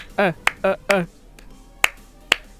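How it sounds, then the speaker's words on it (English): Hand claps along to a song during Danganronpa V3 gameplay, a few sharp single claps spaced between bursts of a voice, close and fairly loud. "I just want to clap to the song, low-key."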